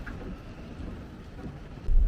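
Rain falling at Osaka Castle in Japan, a steady broadband patter with low rumble, ending in a louder thump or gust of wind.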